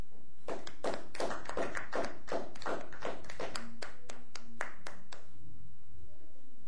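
A church congregation claps in a quick run of sharp, close hand claps for several seconds before fading, with no talk over it.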